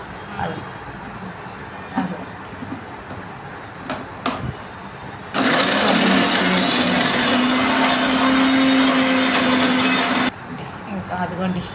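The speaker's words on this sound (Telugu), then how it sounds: "మళ్ళీ మిక్సీ వేస్తున్నాను ఇంకా ఆకులు మెదగలేదు అందుకని మళ్ళీ మిక్సీ వేస్తున్నాను" An electric mixer grinder whirs loudly and steadily for about five seconds, grinding fresh henna leaves with tamarind and salt. Quieter kitchen sounds and some talk come before and after it.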